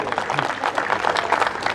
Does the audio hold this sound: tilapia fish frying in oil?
no